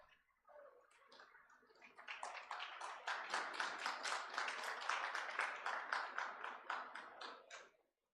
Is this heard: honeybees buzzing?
no